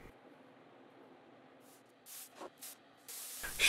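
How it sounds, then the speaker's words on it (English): Short hissing bursts of two-part epoxy primer sprayed onto walnut desk legs, a few quick puffs followed by a longer sustained spray, close by with faint background noise. "Shifting gears, I spray some primer on the legs."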